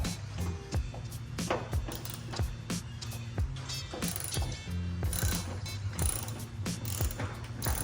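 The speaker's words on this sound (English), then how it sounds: "the fender bolt is an 8mm. We'll go ahead and take it out." A ratchet backing out an 8mm fender bolt on a Mustang, rapid close clicking in steady repeated strokes, crisp and loud with no talking.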